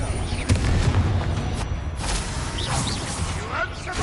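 Bombarda blasting spell explosion in Hogwarts Legacy, heavy booming impacts and rumbling blasts layered over continuous game combat noise, with a voice speaking over the action.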